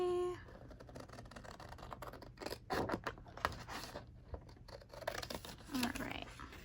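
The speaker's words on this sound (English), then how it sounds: "I'm just gonna take my chances and try and cut this myself." Scissors cutting paper for a spooky pinup-themed junk journal pocket craft: close, irregular snipping and scraping strokes repeating over several seconds, with a voice talking quietly at times.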